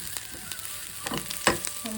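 Mixed herbs with oregano roast in a pan, giving a soft, close sizzle with faint crackles and a few light stirring clicks.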